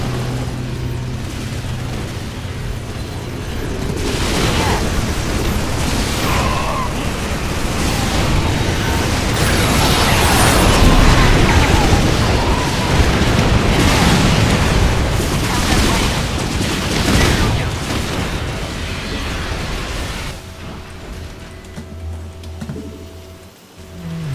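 Air strike explosions in StarCraft II co-op on Chain of Ascension, a long dense rumble of rapid booms and crackling blasts swelling loud in the middle before fading, with faint game voice lines.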